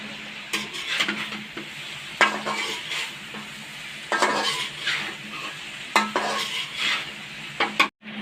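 Onion and rice cooking in a pan at home, with soft sizzling frying and a spoon scraping and clinking against the metal pan in repeated short strokes, close and fairly quiet, with no voices.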